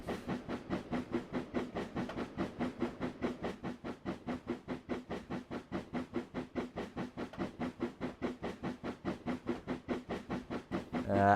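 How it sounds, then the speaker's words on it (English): Steam locomotive sound effects on a model Wisbech & Upwell Tramway layout chuff in a fast, steady, even rhythm of hissing exhaust beats, moderately loud and continuous, with no voices. "I will turn down the steam sounds if it's a little hard to hear me."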